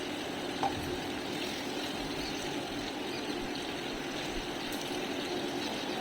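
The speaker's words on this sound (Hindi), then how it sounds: "अब थोड़ा सा पानी डाल देंगे।" Water is poured into a pan of spiced masala gravy for bitter gourd curry, a steady, soft, continuous rushing stream with no pauses.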